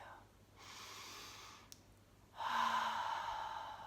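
Two breaths during a facial exercise, one sigh-like breath and then a stronger exhale, close and clear with no talking.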